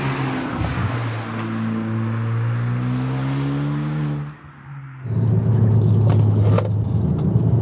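Hyundai Avante N Line cup car driving hard along a winding road, its engine droning loud and close with rising and falling pitch, a brief dip as the throttle lifts, then a stronger, rougher surge of power.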